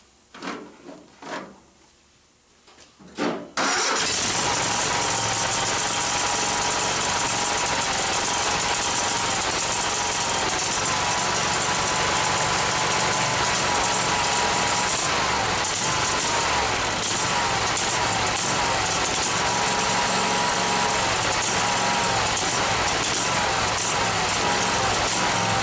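A hot rod go-kart engine that has sat unused for a long time and needs a carburetor belt catches after a few sputtering attempts, then runs loud and steady with a rough, uneven idle.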